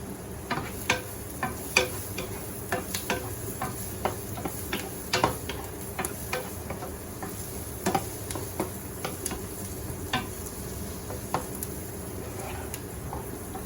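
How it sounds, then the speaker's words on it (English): A spoon stirring pasta as it boils in a pot, giving soft irregular clinks and scrapes that tick against the sides over a constant bubbling hiss, with no talking. "Don't forget to mix the pasta while you were cooking, so they will not stick together."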